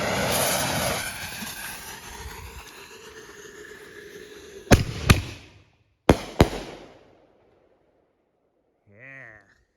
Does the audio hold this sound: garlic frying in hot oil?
no